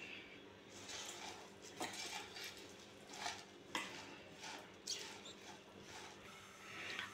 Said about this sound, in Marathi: आता हे आपण मिश्रण एकत्र करून घेऊयात।